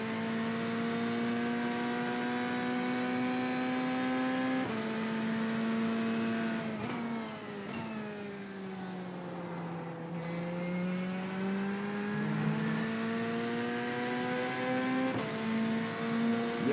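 Race car engine in a VR racing game at Watkins Glen, a loud sustained tone rising and falling through gear shifts and braking as the car laps the circuit, alone without talk.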